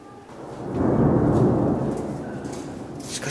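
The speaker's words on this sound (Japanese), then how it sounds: "しかし雷がすごいですね。" Thunder rumbles heavily through an Ethiopian museum setting during a storm, swelling into a long, loud roll that fades slowly, with rain hiss in the background and no voices.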